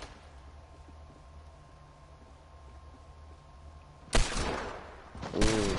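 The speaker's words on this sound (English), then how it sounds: "someone has a hand cannon out there" Sudden loud Fortnite hand cannon blasts burst out near the end after a stretch of quiet ambient hum, two heavy booming shots in quick succession.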